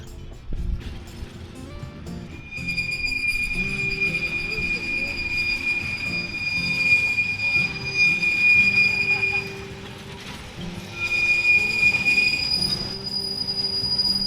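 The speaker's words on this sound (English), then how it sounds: "We just happen to be lucky enough to see a streetcar returning from one of its journeys in town." An electric streetcar rolls along a railroad track, wheels squealing in long, high sustained tones that fade and return, over a low rumbling run of the car; a voice talks faintly underneath.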